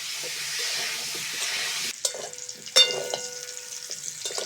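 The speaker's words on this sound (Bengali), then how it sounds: "আলুগুলো ভাজা হয়ে গেছে" Potatoes deep-frying in oil for aloo dum give a loud, steady hiss for about two seconds, then it drops away into clinks, scrapes and uneven sizzling bursts as they are moved about.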